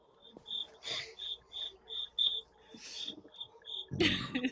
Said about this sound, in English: Josh's crickets are getting louder.